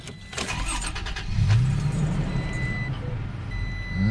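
A Toyota Tacoma pickup engine turns over and settles into a low, rumbling idle close by, with a steady throaty drone through to the end.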